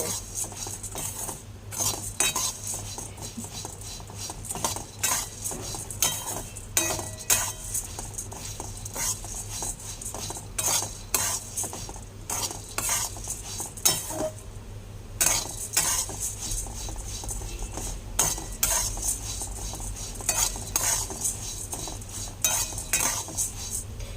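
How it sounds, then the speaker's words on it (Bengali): Puffed rice (muri) being roasted and stirred in a pan, a steady dry scraping and rattling of grains against metal with faint sizzling, continuous and close for the whole stretch with no voices. "মুড়িগুলো এখন ভাজা ভাজা হয়ে এসছে"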